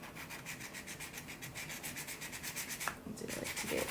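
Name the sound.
sanding jewelry piece with a sanding sponge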